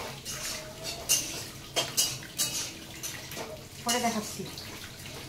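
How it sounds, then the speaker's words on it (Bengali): Chicken leg pieces being washed in water, with splashing, sloshing and the clatter of a bowl in bursts, while a person talks nearby. "এই যে চিকেনটাকে ধুয়ে দিচ্ছি"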